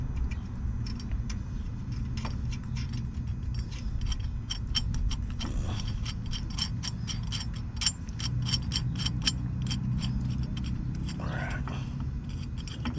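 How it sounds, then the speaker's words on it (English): Wrench torquing down lug nuts on wheel spacers, giving a steady run of rapid mechanical ratcheting clicks over a constant low hum, close and moderately loud, with no talk. "watch me torque it down"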